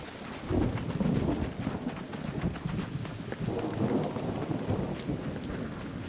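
A thunderstorm in the Arc Raiders video game: steady heavy rain hisses throughout with low rumbling thunder rolling underneath, fairly close and continuous, with no talking.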